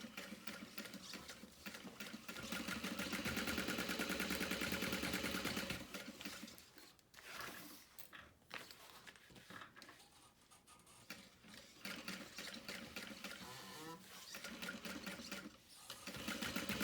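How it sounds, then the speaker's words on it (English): A sewing machine stitches around the opening of a fabric bag with a fast, even mechanical ticking. It runs in steady bursts, with brief pauses and changes of pace partway through. "I'm just going to clip that into place and sew around the opening."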